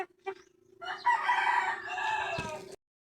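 Straight-breed Super Brown Red gamecock rooster, derby size, gives a single close, loud crow after a couple of short clucks, ending abruptly.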